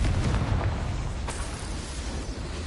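A Confringo fire-blast spell explodes in Hogwarts Legacy, a loud booming burst followed by a sustained roaring, crackling rumble that fills the whole moment.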